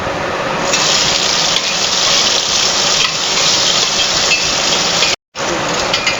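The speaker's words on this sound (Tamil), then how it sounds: "இது பொரிஞ்ச உடனே வெங்காயம் போட்டுக்கலாம்." Onion being fried in hot oil in a pan for egg biryani, a loud steady hiss and sizzle held close throughout, with one brief silent break near the end.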